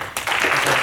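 Church congregation breaking into applause to welcome visiting guests, a burst of many hands clapping that starts abruptly and stays full and close through the short moment.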